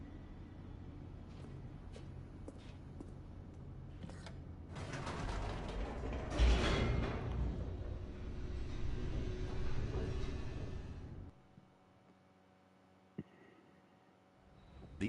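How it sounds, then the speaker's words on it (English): An elevator in the video game The Stanley Parable descends with creaking, grinding mechanical rumble and clanks that build to a loud churning peak, then cut off abruptly to near silence with a lone later clunk. "The elevator raced downward, plummeting towards an unknown fate."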